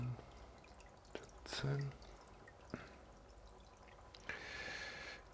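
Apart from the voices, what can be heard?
drops of test reagent falling into aquarium water sample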